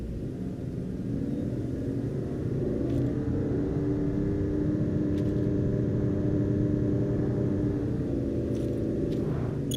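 A car drives along in the Final Fantasy XV game, a steady low engine rumble that holds at moderate level throughout, with a few faint clicks above it.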